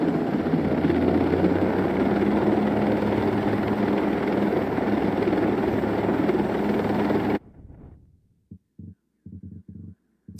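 Helicopter in a sniper video game, a loud steady rotor throb and engine roar filling the first seven seconds, then cutting off abruptly to near silence with a few faint brief sounds.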